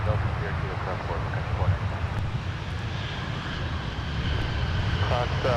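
Aircraft at Minneapolis airport (MSP) taking off, a broad continuous jet engine roar with wind noise that stays fairly steady and swells slightly toward the end, with radio voices talking over it.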